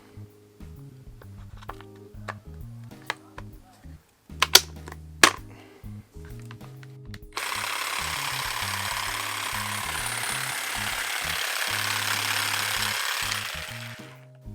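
Parkside electric hedge trimmer from Lidl, first clicking and clattering as it is handled, then starting up into a steady loud motor whir with buzzing blades that runs until the end.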